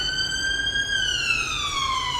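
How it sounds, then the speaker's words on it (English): A siren wails outside, its long steady tone slowly sliding lower as the emergency vehicle passes and fades, clear over a quiet background. "sorry about the sirens there"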